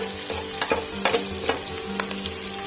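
Chicken stirred with turmeric, red chili and salt in a frying pan gives a steady oily sizzle, broken by repeated scraping strokes of a spoon against the pan.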